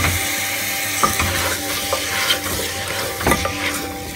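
A chicken masala gravy cooks after tomato puree is added, sizzling steadily up close. A spoon scrapes and clacks against the pan in several distinct strokes while it is stirred.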